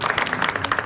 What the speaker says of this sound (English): I kind of overdubbed human clapping